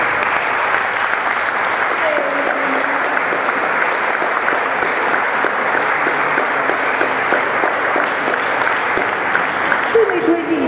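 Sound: applause from audience

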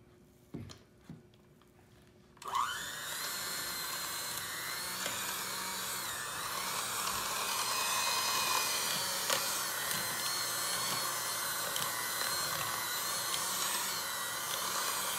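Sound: mixing dry and wet ingredients for cinnamon cookie dough

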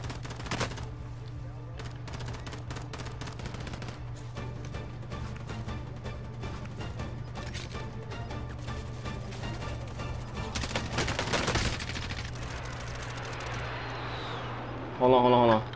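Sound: gunfire in Call of Duty: Warzone video game

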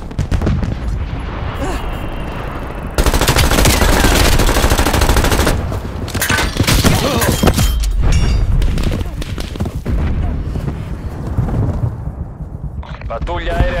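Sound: enemy artillery fire in video game Call of Duty Black Ops Cold War

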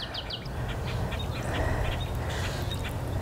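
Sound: birds in a backyard

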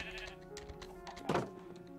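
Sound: sheep bleating in the video game Forever Stranded

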